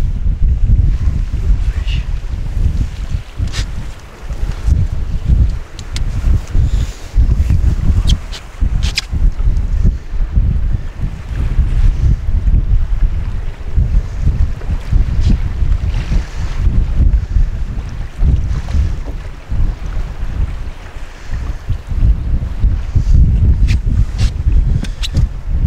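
Strong wind buffets a fishing boat on open water, a constant loud rushing roar with gusts and microphone wind noise, while a person talks intermittently over it.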